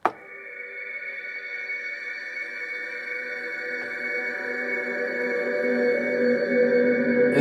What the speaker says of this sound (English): I was going through sounds in Expand, and I came across this sound called Satellite